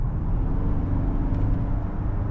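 Steady low drone of a running 2025 Kia Sorento 2.2 liter diesel engine, European spec, heard from inside the cabin as a continuous even rumble with no talking.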